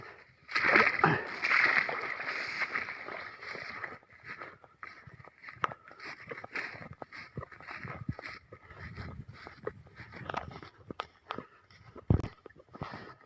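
Splashing and sloshing footsteps wade through shallow water beside a rice paddy, with a burst of loud splashes early on and irregular, softer steps and sloshes continuing close by.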